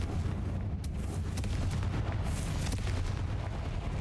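Rumbling blasts from the Confringo explosive spell in Hogwarts Legacy, a series of booming impacts and crackling bursts over a dense, loud background, with no talking.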